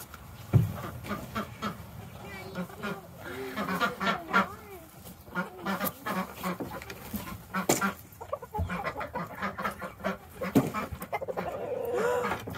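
Hens clucking and cackling close by in a coop, with scattered squawks and rustling, busy and uneven throughout; a few other animal sounds mixed in.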